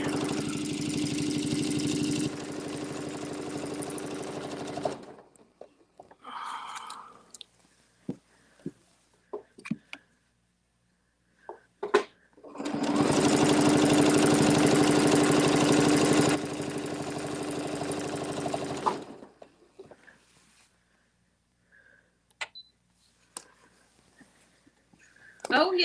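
A sewing machine stitches in the ditch in two sustained bursts of steady, loud mechanical whirring, each several seconds long, separated by quiet stretches with light handling clicks and some talking.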